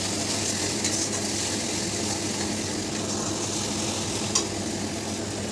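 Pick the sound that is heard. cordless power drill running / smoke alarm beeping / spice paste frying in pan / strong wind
spice paste frying in pan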